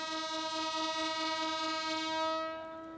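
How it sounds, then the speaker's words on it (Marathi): On a newly opened railway line in Beed, a train sounds a loud, sustained horn that holds steady and then fades away toward the end. "पहिल्यांदाच बीडमधून रेल्वे धावतानाची ही दृश्य आपण बघू शकतोय"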